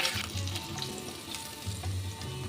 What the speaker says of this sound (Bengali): তেল ভালো মতন গরম হয়ে গেছে তেলে অল্প লবণ ছিটিয়ে আমি এই ডিমগুলো ভেজে নেব